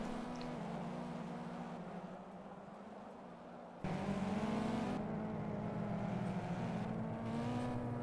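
Race cars pulling away at Brands Hatch GP in a racing game: steady engine drone that dips, then jumps abruptly louder as more cars accelerate past, holding a sustained multi-engine roar.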